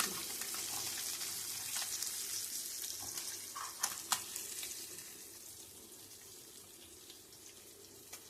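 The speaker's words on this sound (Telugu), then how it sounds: "ఫిష్ ఫ్రై ఇది ఇంకొంతసేపు ఇవి వేగే వరకు పెడదామండి" Fish pieces shallow-frying in oil in a pan give a quiet, steady hiss with scattered soft crackles and a few sharper pops near the middle, fading slightly toward the end.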